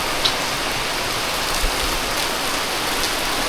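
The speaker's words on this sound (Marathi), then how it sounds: "पाऊस बघा, मध्ये बंद होता, प्रचंड प्रमाणात पुन्हा झालाय सुरू" Heavy May rain pours down steadily in rural Konkan, a dense unbroken hiss with no voices.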